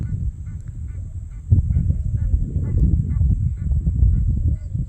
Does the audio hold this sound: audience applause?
no